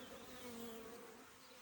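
Honey bees buzzing inside a hive during a spring inspection, a faint, close, continuous hum of many wings with a few individual buzzes rising and falling in pitch.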